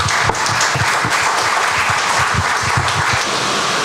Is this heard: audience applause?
yes